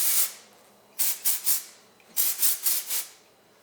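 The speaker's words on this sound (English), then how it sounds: "now you can spray a little bit more of the dry volume spray in there" Dry volume hair spray hissing from an aerosol can in short bursts: one spurt, then a pause, then two quick clusters of three or four sharp sprays each, close and fairly soft, with no talking.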